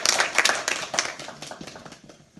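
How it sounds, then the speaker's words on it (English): Scattered audience clapping at a yeshiva open house, a burst of claps at the start that thins and fades out over a couple of seconds. "They should get a round of applause, actually."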